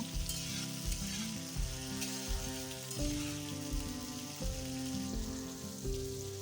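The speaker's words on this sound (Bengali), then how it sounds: "পেঁয়াজ আর টমেটমটা দেখো খুব এবার মোটামুটি হালকা আছে ভেজে নেব" Onion and tomato fry in a pan for chicken do pyaza, giving a continuous close sizzle with occasional stirring bursts. Background music plays over it.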